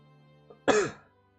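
A single short, close cough after a faint throat sound, otherwise quiet.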